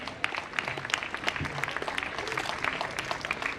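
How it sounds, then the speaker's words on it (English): Audience applause at a university convocation ceremony, a steady dense patter of many hands clapping throughout, moderately distant and continuous with no speech over it. "We expect an applause from everyone sitting here."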